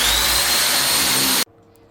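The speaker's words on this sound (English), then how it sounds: "We're going to use an SDS drill, start from the top and work our way down." An SDS drill breaking through a wall roars loudly and steadily, close by, for about a second and a half, then cuts off abruptly, leaving a faint low hum.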